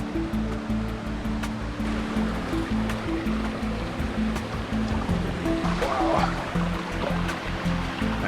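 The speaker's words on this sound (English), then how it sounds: "I think I see the waterfall right up here" Waterfall in a tropical Bali jungle, a steady, moderately distant rush of falling water filling the whole stretch without talk.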